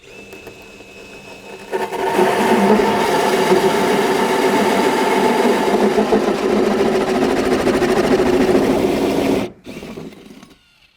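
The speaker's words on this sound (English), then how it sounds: "So I'm going to cut my 4-inch hole, and then I'm going to watch this cut the little groove into it" A drill with a 4-inch wooden hole-cutting bit spins up and cuts a hole, giving a loud, steady whirring grind for about eight seconds before it stops abruptly.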